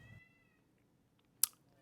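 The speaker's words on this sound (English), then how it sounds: "I apologize for my cat not shutting up in the background." A cat meows briefly and sharply in the background, a single short call standing out from an otherwise quiet room.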